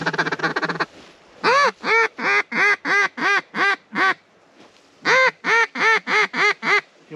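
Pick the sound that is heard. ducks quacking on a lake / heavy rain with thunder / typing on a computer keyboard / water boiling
ducks quacking on a lake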